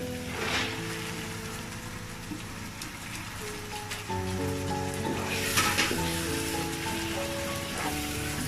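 Vegetables and lentils sizzle and hiss steadily in a pan of cooked-down spices for thin vegetable khichuri, a continuous crackling fry that grows a little louder partway through, with faint background tones and no talk.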